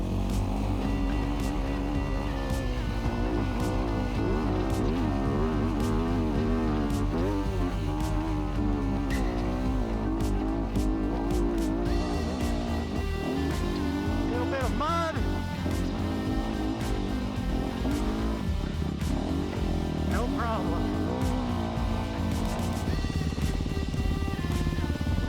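An enduro motorcycle on Bridgestone Battlecross E50 extreme enduro tires, its engine droning close and steady while the revs rise and fall as it is ridden over rough ground.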